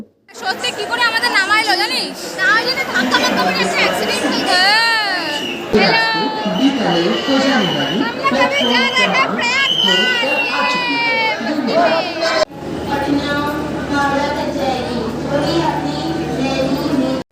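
A dense crowd packs a railway junction during the Mahakumbh Mela 2025. Loud, continuous overlapping chatter, shouting and children's voices fill the whole stretch, close around.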